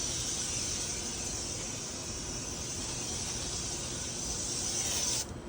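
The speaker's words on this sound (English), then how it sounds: "We'll just kind of spray it around a little bit" An aerosol spray can hisses in one long, steady, fairly loud burst for about five seconds, then cuts off abruptly near the end.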